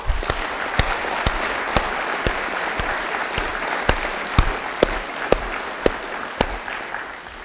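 A crowd at a public forum on water protection applauds steadily, with dense clapping and a few sharp louder claps standing out, sustained throughout.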